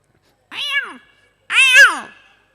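A human voice imitating a small kitten meowing, two separate rising-and-falling mews about a second apart, close and clear, the second slightly longer and louder.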